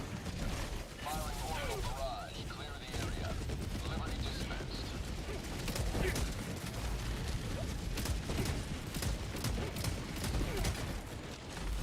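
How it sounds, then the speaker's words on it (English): Orbital barrage strike in the co-op shooter Noobs In Combat: Cold Front, a dense continuous rumble of distant explosions and rapid gunfire running the full length under occasional voice chatter. "Firing orbital barrage."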